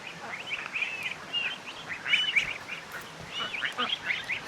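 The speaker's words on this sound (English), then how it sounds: "Let's go to bed, baby ducks." Baby ducks on a farm peep and chirp in a busy, overlapping chorus of high calls, fairly close, with no talking over them.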